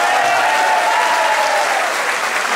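A crowd at a PSDB political rally in São Paulo applauds loudly and steadily, a dense, unbroken wash of clapping that fills the whole stretch without pause.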